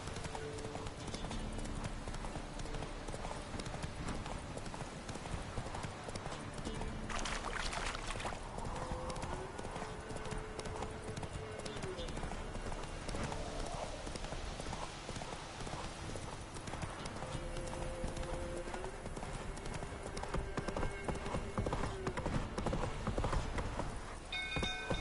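Hoofbeats of the horse Roach galloping steadily in The Witcher 3, a continuous rhythmic clip-clop at close range with game music and occasional voices over it.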